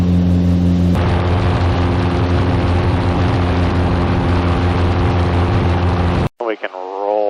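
Mooney single-engine airplane climbing after takeoff, its engine a loud, steady drone with strong low harmonics running throughout, with a voice talking over it before the sound cuts off abruptly near the end.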